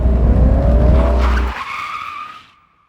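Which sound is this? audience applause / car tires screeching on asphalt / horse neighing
car tires screeching on asphalt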